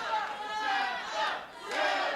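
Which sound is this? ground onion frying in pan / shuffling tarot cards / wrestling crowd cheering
wrestling crowd cheering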